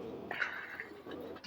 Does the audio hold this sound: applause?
no